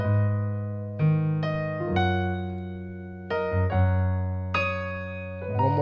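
Piano playing the second variation of a song slowly: sustained chords struck one at a time with a low bass note held underneath, each chord ringing and decaying before the next, soft and without talking.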